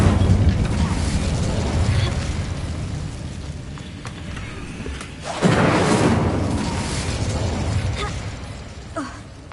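Incendio fire spell from Hogwarts Legacy, a rumbling fiery burst with crackling debris, swelling loud midway with a deep whoosh that then trails into a lingering roar.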